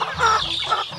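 Farmyard chicken clucking in quick repeated bursts on a rural countryside farm, fairly close and steady, with no talk over it.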